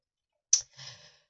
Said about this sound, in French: j'ai pas pu bâiller à fond, j'ai coupé le bâillement pour vite